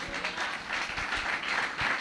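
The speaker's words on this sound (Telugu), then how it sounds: "గట్టిగా చప్పట్లు కొడదామా?" An audience at a Christian sermon clapping together, a brisk, fairly even patter of many hands that holds steady for a couple of seconds, moderately loud with no speech over it.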